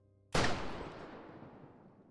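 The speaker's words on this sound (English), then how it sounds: "A gunshot rings out." A single sharp gunshot cracks loudly and suddenly, then rolls into a long fading echo that decays over about two seconds.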